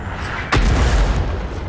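A single heavy boom of an artillery shell exploding in a tank video game, sudden and loud, followed by a low rumbling tail with no talk.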